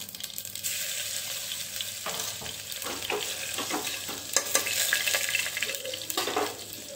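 Cumin seeds, mustard seeds and crushed garlic sizzle steadily in hot oil in a pan, a continuous bright crackle with scraping stir strokes and small clinks of a utensil throughout, no talking.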